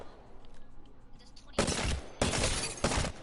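Automatic weapon fire in a PS4 shooter game: three loud, sustained bursts of rapid gunfire, each lasting about half a second, after a quieter stretch of game ambience.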